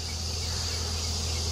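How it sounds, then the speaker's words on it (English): Honey bees swarm around their hives beside a queenless colony, making a steady, dense droning buzz with a low hum underneath that holds at an even level throughout, with no voices. "I don't know what these bees here are doing."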